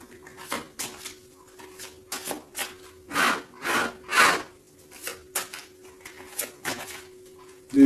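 Tarot cards being shuffled by hand, a sequence of soft papery riffles and rubbing swishes at an uneven rhythm with a few longer louder strokes in the middle, close and with no talking.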